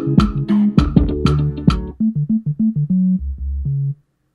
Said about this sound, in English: high life kind of bass, Nigerian high life kind of bass.